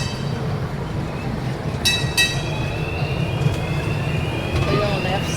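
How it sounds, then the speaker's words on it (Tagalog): Small train carrying riders inside a shopping mall, a steady rumbling roll with brief squeals and clicks of wheels, constant and close with mall ambience around it. "we are riding in a train inside the mall"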